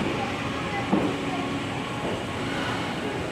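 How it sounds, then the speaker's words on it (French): A luxury sleeper train with around twenty rooms, in Japan between Shibuya and Aizu-Wakamatsu, rumbles steadily as a continuous, fairly loud rolling drone, with a faint voice briefly underneath. "Un train de luxe avec, il me semble,"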